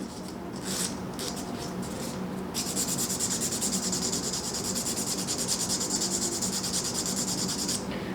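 An acrylic sculptured nail is filed with the finer edge of a nail file, making a steady, close scratchy rubbing that runs continuously and gets brighter and more rapid midway through.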